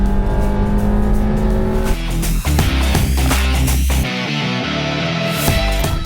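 Honda City car engine revving up through a continuous climb during an acceleration run, heard from inside the cabin; a steady, loud drone with a shift-like dip partway, no one speaking.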